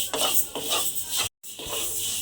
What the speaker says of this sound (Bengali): দিয়ে প্রথমে আমাকে ডালটাকে এইভাবে একটু ভেজে নিতে হবে